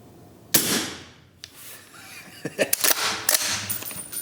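Suppressed .308 rifle with a 12.5-inch barrel fired at night at a distant steel target: a sharp close report, then further cracks and impacts among outdoor noise.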